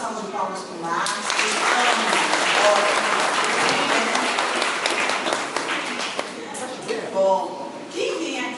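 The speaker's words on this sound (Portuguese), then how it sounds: "Mais uma salva de palmas para o Marcos." An audience at a home spiritist gospel gathering breaks into sustained applause, many hands clapping steadily for several seconds and then fading, with some voices mixed in.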